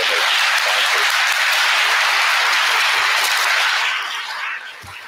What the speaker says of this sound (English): a round of applause to all of the AFA and their sponsors